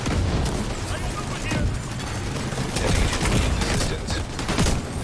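Bursts of gunfire in The Division 2 during a raid, dense overlapping shots and impacts crackling steadily over game noise, loud and continuous throughout.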